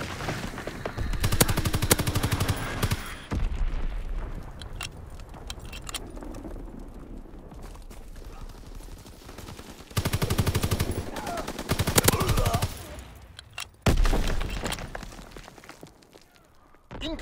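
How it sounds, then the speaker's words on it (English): Enemy artillery bombardment and gunfire rage in a Call of Duty WWII free-for-all match, with bursts of rapid automatic fire and sharp crackling shots coming in clusters between quieter gaps, fairly faint overall. "Incoming enemy artillery!"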